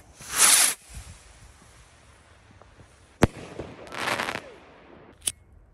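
Fireworks rockets go off outdoors around New Year, with a loud crackling burst, a sharp single bang, a second fizzing crackle and another snap, separated by quiet gaps.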